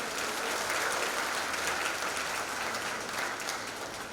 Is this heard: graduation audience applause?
yes